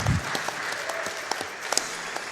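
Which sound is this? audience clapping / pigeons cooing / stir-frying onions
audience clapping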